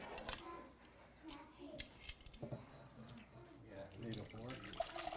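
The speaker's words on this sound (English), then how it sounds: "gonna pour the juice into the bowl" Juice from a chicken tinga cook in an Instant Pot poured into a bowl, a soft steady liquid trickle close by with light clinks and kitchen handling noises, no talking over it.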